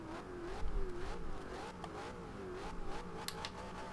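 A fully upgraded 2015 Ford Mustang GT engine in Forza Horizon 2 revving in quick rising and falling bursts, a buzzy mid-pitched whine at moderate volume with no talking.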